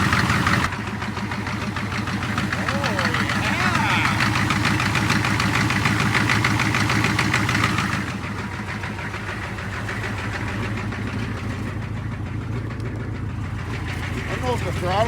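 A 6.5-liter turbo diesel in a Chevrolet Suburban idles steadily with a rough, knocking clatter and constant vibration, staying loud and close for the whole stretch while a voice speaks briefly over it.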